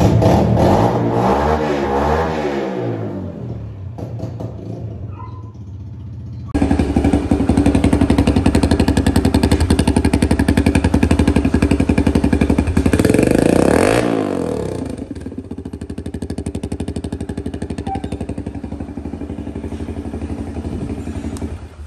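A Kawasaki KLX110 dirt bike engine with a modified air intake revs up and down loudly and close by, with sustained throttle bursts and a rising whine near the end, no talking.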